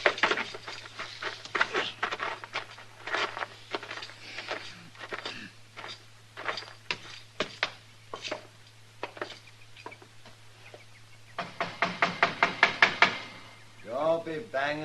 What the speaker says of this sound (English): Don't be banging on the door.